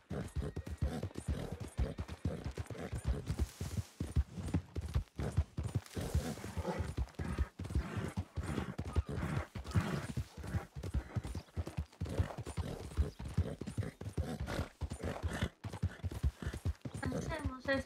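Horse hooves clip-clopping in the video game Red Dead RP, a steady rapid clatter of hoofbeats running continuously beneath a person talking.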